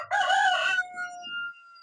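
A chicken that is recovering from illness lets out a single loud, close crow lasting under a second, then falls quiet.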